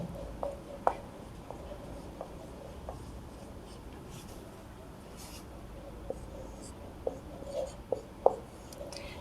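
A pen scratches out a maths solution on paper in short strokes and taps, quiet and close, while a person speaks softly in Hindi between the marks.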